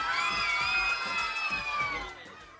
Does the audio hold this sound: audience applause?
yes